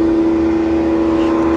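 An air blower cleans heavy dust off an air-conditioner condenser unit with a loud, unbroken whirring drone and a steady whine, heard close and alone.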